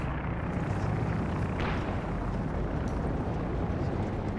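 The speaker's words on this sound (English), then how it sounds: "Fire and Terror popping the strafing run." A strafing run air attack strikes in the Company of Heroes 2 video game, producing a dense, continuous roaring rumble of gunfire and blasts. It stays loud and steady throughout, with a brief sharper burst partway through.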